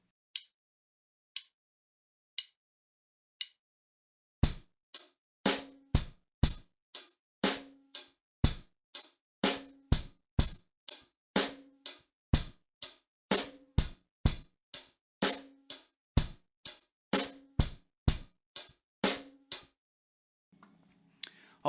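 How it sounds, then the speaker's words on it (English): A few sparse hits give way to a steady drum groove, bass drum and snare in a repeating pattern with two quick bass drum strokes following the first snare of each bar, crisp and close with no talking. "add 2 bass drums right after the first snare drum"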